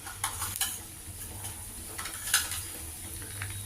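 Urad dal and cumin hit hot oil for a tempering, a faint steady sizzle with a few sharp utensil clinks and stirring scrapes, close and quiet, no talk.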